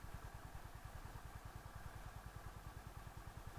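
A Honda CB350 motorcycle engine chugs at low speed in second gear, around 15 km/h, with a steady rapid thumping pulse, faint and close, with no talking.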